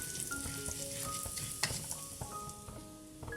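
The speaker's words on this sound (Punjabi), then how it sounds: "ਗਰਮ ਤੇਲ ਦੇ ਵਿੱਚ ਹੁਣ ਇੱਕ ਛੋਟਾ ਚਮਚ ਭਰ ਕੇ ਜੀਰਾ ਪਾਵਾਂਗੇ ਤੇ ਜੀਰੇ ਨੂੰ ਆਪਾਂ ਚੰਗੀ ਤਰ੍ਹਾਂ ਤੜਕਾ ਲਵਾਂਗੇ" Cumin seeds crackle and sizzle steadily in hot oil as a tempering for a dry potato and pea curry, with a close, dense spitting texture and a few sharp pops, without any talking.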